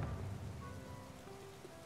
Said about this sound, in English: Yikes, it's raining.